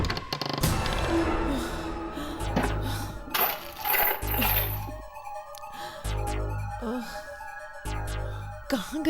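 A key drops and rings out with bright metallic clinks and a short jangle on a hard floor, followed by tense ambient tones, with faint voices in the background.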